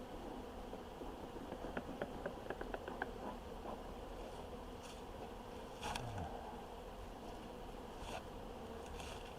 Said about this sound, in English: what Lisa was seeing was a very large orientation flight